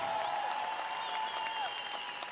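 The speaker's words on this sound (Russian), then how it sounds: "ваши аплодисменты, Россия!" Applause from a crowd at a TATNEFT CUP fight night under TNA rules in Russia, a dense steady clatter of clapping filling the venue with a faint tonal line over it.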